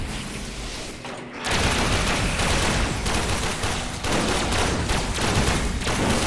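A rifle firing in the Warframe video game, a dense burst of shots that starts suddenly and keeps up a loud, sustained rattle, with no voices.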